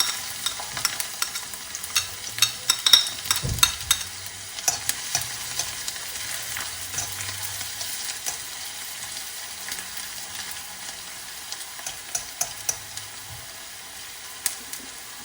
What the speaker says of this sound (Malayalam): കടുക് പൊട്ടി തീർന്ന് കഴിയുമ്പോൾ നമുക്ക് ജിഞ്ചർ ഗാർലിക് ഇട്ട് കൊടുക്കാം.